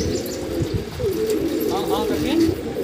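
A pigeon on a rooftop gives soft, low cooing calls in a few rolling phrases, fairly close, with some faint background noise.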